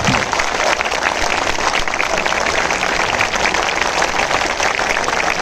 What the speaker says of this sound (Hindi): एक बार मुख्यमंत्री जी के लिए भी जोरदार जो है ताली बजा दीजिए